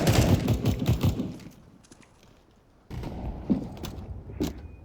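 A door creaking open in Counter-Strike, a short drawn-out creak with a mechanical clack after loud gunfire-like bursts at the start, then quiet room ambience.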